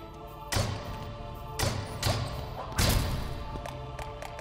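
Large crates pushed and smashed in Kingdom Hearts, heard as a handful of thuds and crashing impacts spread irregularly over a few seconds, fairly loud above a steady game background.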